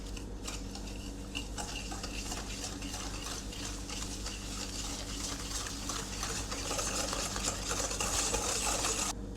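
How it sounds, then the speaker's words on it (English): Melted butter being whisked with packed light brown sugar and white sugar in a bowl, a steady scraping, clinking stir that runs continuously and grows slightly louder, close up with no talking. "Whisk that together."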